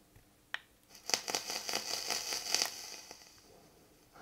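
Snow Wolf 200W temperature-control box mod with its coil firing in pulse mode, giving a close, steady crackling sizzle of rapid ticks that runs for about two seconds and then fades.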